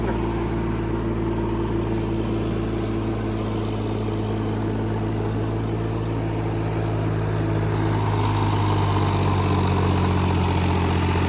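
A mini rotavator churning through weeds in a field, a loud steady engine drone with low humming harmonics, continuous and close, rising slightly toward the end, with no talk over it.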